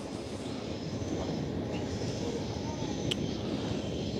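A train rumbles past on the rail line near Haarlemmer Dijk in Amsterdam, a steady, moderately distant roar of rolling wheels that holds evenly throughout with no talk over it.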